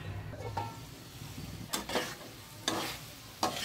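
Chicken and chickpeas cooking in a covered pan over medium-low heat, a soft continuous sizzle with a few brief louder bursts of bubbling or spattering.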